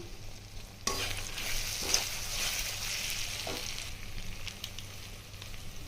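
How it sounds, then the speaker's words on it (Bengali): Ground chilli, turmeric, cumin and Kashmiri chilli powder sizzling in hot oil in a pan for a chicken curry, a steady close frying hiss with a few stirring scrapes, no speech. "কাশ্মীরি লঙ্কার গুঁড়ো, ওটা ভালো করে কষিয়ে নেব।"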